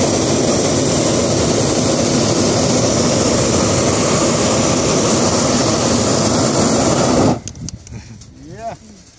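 Loud, continuous roar of a hot air balloon's gas burner firing, filling the air steadily for several seconds before cutting off abruptly, leaving quieter sounds and a brief voice.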